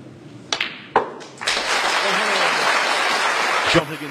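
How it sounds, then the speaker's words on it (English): Snooker crowd applause for a century break, a dense steady wash of clapping that starts after a couple of sharp knocks and holds at even loudness for a few seconds before easing. "John Higgins, well accustomed to the applause that greets a century break."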